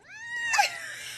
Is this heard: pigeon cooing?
no